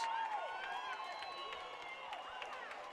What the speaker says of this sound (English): Brings this crowd to their feet, gives them something to cheer about.